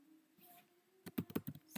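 Quick keystrokes on a computer keyboard typing an SQL command, a short burst of about six close, crisp clicks after a quiet stretch with a faint hum.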